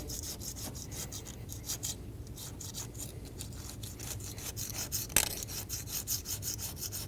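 A scraper rasps repeatedly across the intake manifold mating surface on a 2012-2022 Volkswagen Passat, working away old dirt and oil in a steady run of close, gritty strokes with one sharper scrape near the end.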